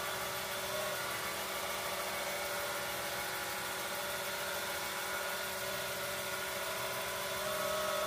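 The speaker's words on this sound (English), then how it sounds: "throw on the lathe, turn it up to about 2000 RPM" A wood lathe spins at about 2000 RPM while amboyna burl is buffed with compound, giving a steady, even motor hum and whir that holds at constant level throughout, with no talk.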